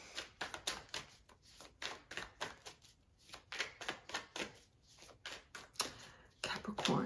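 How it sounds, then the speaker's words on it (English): Tarot cards being shuffled in close, rapid riffling bursts, repeated rhythmically with short pauses between. "Let's shuffle it out."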